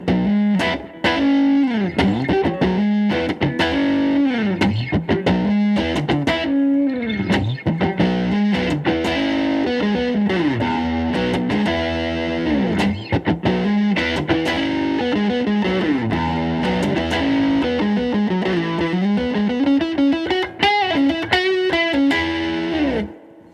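Electric guitar played on the bridge pickup through a Fender Tone Master Nashville OD overdrive in front of a Super Reverb amp, a loud, continuous gritty lead with bending, sliding notes and no talking.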